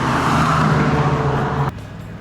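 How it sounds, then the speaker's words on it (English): Road traffic passing by: a steady car engine and tyre rumble from a nearby vehicle, loud and continuous, dropping off sharply just before the end, with no talking. "Hopefully this traffic's gonna stop sometime soon"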